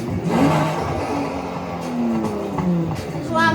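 A car engine in a video game revs and whirs at a mid pitch, rising and falling in several short pulls, with a rough clattering edge and a final climb at the end.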